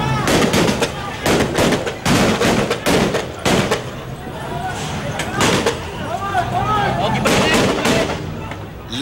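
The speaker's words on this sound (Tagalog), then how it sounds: "Dito na umalingaw-ngaw ang sunod-sunod na putok ng baril." Rapid, repeated gunshots crackle in dense bursts during a house demolition in Caloocan, loud and echoing, with shouting voices mixed in beneath the shooting.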